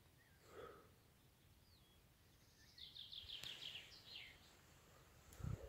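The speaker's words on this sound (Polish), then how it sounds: "Pięknie budzą ptaki rano." Songbirds call in the early morning on a Tatar trail: a faint chirp early on, then a quick run of bright, repeated twittering notes midway, distant and thin over quiet outdoor background, with a short knock near the end.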